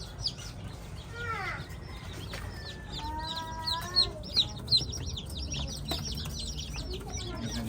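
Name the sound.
newly hatched chicks and chickens clucking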